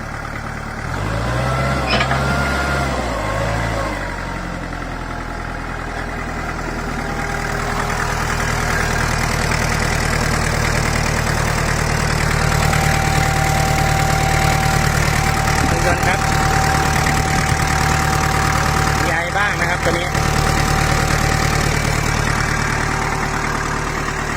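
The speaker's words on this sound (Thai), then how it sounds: "ครับเปิดเครื่องยนต์" A steady, low idle of a used Kubota tractor engine runs throughout, loud and close, with a faint high tone and brief clanks partway through.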